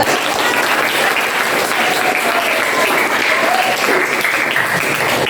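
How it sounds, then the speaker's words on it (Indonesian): Students in a classroom applaud group 3 with steady, dense clapping that stays loud and even throughout, with no talking over it. "Tepuk tangannya dong buat kelompok 3"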